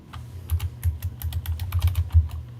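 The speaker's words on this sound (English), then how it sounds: "typing away to make sure everybody knows" Rapid keystrokes on a computer keyboard, a close, irregular patter of clicks and thumps continuing throughout without speech.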